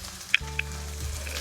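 Half-fried onion with added carrot sizzles in a pan with a steady, moderate hiss. A couple of sharp clinks come from a utensil, and a low hum runs beneath it all.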